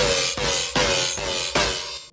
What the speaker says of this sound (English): That's a dubstep bass.